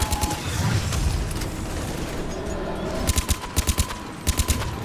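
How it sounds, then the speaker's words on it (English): Rapid automatic weapon fire from a Mass Effect 3 battle against a harvester, with loud bursts of shots in quick clusters over a dense rumbling layer of explosions and combat noise. "Why is everything getting bombed when I'm shooting it?"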